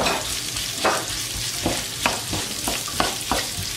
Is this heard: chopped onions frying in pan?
yes